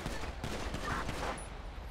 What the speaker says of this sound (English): Guess we got shots fired down here.